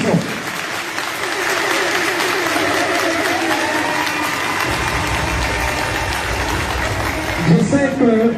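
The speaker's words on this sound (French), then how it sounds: "Je voudrais vous demander d'applaudir très fortement le président de l'IFDG" An audience applauds the IFDG president, a sustained, dense clapping that holds steady before a voice and cheering rise near the end.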